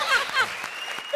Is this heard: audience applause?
yes